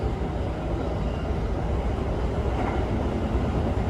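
Amtrak's westbound Pennsylvanian speeding downhill on the west slope near Altoona and Cresson, Pennsylvania, a steady loud rumble and roar of wheels on rails running continuously throughout, heard close from on board.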